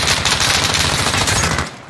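Sustained rapid machine-gun fire from an LMG in Call of Duty: Warzone, a dense, loud continuous burst of shots lasting nearly two seconds before cutting off.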